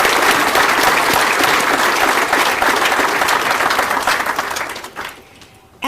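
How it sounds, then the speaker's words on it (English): Audience applause at a Perry Tech graduation ceremony after a keynote speech, a dense, loud round of clapping that fades out near the end. "let's give Adam another round of applause."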